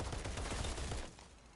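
Sustained automatic gunfire in the video game Outriders, a dense rapid stream of shots that fades toward the end, heard alone without talk.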